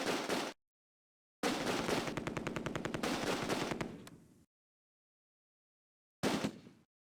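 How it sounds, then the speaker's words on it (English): Machine-gun fire in the Close Combat war game: a short burst, then a long sustained rapid burst that fades out, and another brief burst after a silence. All of it is loud and close. "Fire now shifts to the heavy machine gun"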